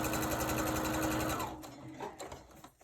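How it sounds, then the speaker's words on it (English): Sewing machine stitching a seam on a fabric wolf mask, a rapid close mechanical whirr running steadily for about a second and a half, then stopping and giving way to soft handling noises. "so now we're just going to stitch"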